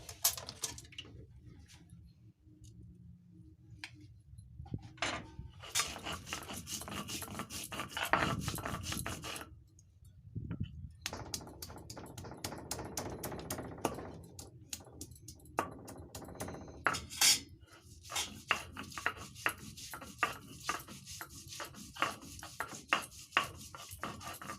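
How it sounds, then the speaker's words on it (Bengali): Ginger and cumin being ground into a paste on a grinding stone, a rough rasping scrape that repeats in steady strokes, with a few short pauses and no talk. "জলটা গরম হতে হতে আমি ফড়ঙে দেওয়ার জন্য আদা জিরাটা বেটে নেব।"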